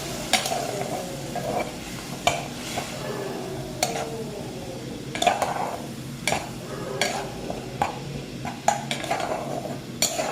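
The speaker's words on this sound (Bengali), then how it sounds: "অল্প অল্প মশলার জল দেব আর মশলাটাকে কষাবো।" Spice paste for Bengali prawn malai curry being stirred and fried in a pan with splashes of spiced water, a constant sizzle under repeated scraping strokes of a utensil against the pan.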